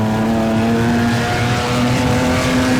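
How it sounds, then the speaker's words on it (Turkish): Racing car engines in the video game FlatOut 4 drone loudly and steadily with a sustained high-revving tone, continuous and close with no talk over it. "arabanın motor sesleri falan çok iyi yapmışlar ya"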